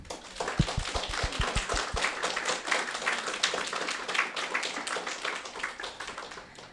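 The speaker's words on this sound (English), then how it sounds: "Could we please give all these people a huge round of applause?" Applause at an exhibition opening. It starts with a few distinct, close claps that quickly merge into a steady round of clapping from a modest crowd and continues evenly to the end.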